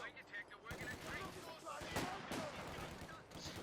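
Machine gun fire crackles in rapid bursts within the real-time strategy game Company of Heroes 2, a dense, fairly faint barrage of shots and explosions mixed with battle noise.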